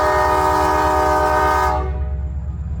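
A passenger train sounds a loud, sustained multi-tone horn as it approaches a road crossing, close by. The horn cuts off partway through, leaving the low rumble of the train rolling along the rails.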